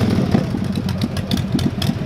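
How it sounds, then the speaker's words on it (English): A loud Harley-Davidson motorcycle idles close by with a steady, lumpy low rumble and uneven pulses, no talking over it. "Loud Harleys lurking"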